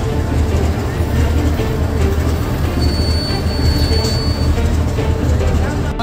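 Train running at Sangrur railway station, a steady loud low rumble of rolling cars with a thin wheel squeal partway through, over continuous crowd noise and talk.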